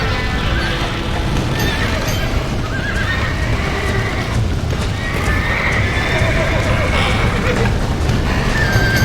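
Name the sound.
horse neighing and hooves in Red Dead Redemption video game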